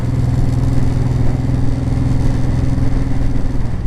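A Honda VTX 1800 cruiser motorcycle rumbles loud and close while being ridden, its big V-twin giving a steady, throbbing low pulse.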